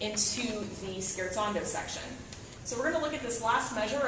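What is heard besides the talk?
No everyday noise stands out behind the speech.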